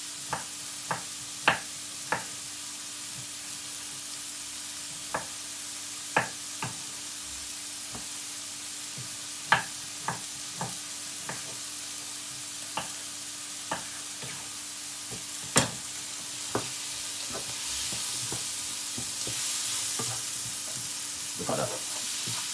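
King prawns with tomato frying in a pan, a steady sizzle under scattered sharp clicks and taps of a utensil stirring against the pan, louder hiss building near the end; no talking.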